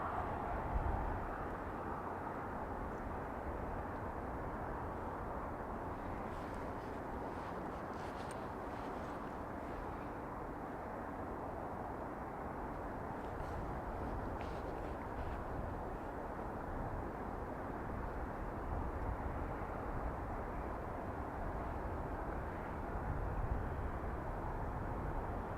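Distant ATR turboprop airliner taxiing and turning onto the runway at Dublin Airport, a steady low broadband engine drone holding constant throughout with no talk.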